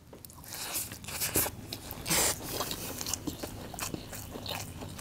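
Crunchy biting and chewing on a piece of Kadaknath chicken korma in rich gravy, close to the mic, with several crisp bites and wet mastication over about five seconds.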